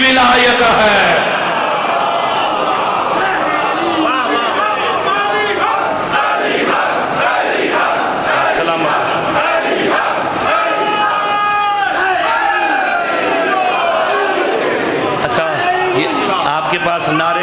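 A large crowd at a religious sermon on the virtues of Ali chants slogans loudly in unison, many voices overlapping in a continuous, roaring wave of rhythmic shouts close by.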